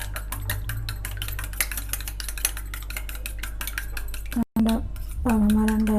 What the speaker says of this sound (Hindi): अब हमारा अंडा अच्छे से मिक्स हो गया